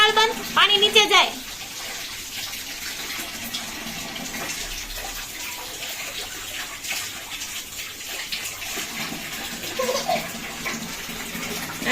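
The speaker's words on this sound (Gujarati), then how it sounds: "હે પાણી તો હેઠું જાય છે. નળ બંધ કર દે, નળ બંધ કર, નળ બંધ." Tap water runs steadily into a bathtub or basin where a small girl is bathing, a continuous near hiss and splash with a brief louder burst at the start and adult voices talking over it throughout.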